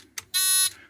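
Early warning safety alarm buzzer mounted on top of a Dillon 1050 reloading press, giving one loud steady electronic buzz about a third of a second long after a brief click.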